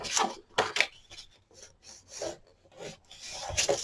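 Repeated rasping strokes of a scoring tool drawn across cardstock paper for a handmade mini album, several close scratchy passes in an uneven rhythm with short pauses between them.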